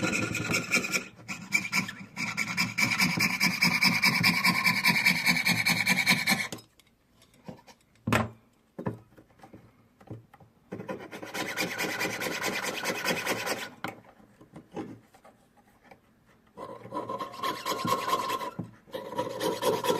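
A saw cuts by hand through a metal ID bracelet nameplate held with pliers on a bench pin, producing quick, close rasping strokes in three runs separated by quiet gaps, with no voice.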